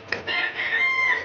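A hen near her eggs gives a single drawn-out call, close and fairly loud, lasting about a second after a brief sharp onset, heard alone.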